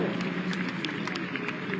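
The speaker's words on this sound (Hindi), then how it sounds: "जरा तालियां बजा के हौसला बढ़ाइए आप लोग" An audience applauds at a school award ceremony during the founder's day event of Maharana Pratap Shiksha Parishad. The clapping is steady and fairly faint, with a crowd murmur underneath.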